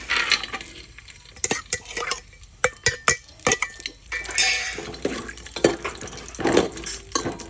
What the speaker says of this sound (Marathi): तूप टाकून घेतले आणि काजू बदाम आता फ्राय करून घ्यायचे थोडेसे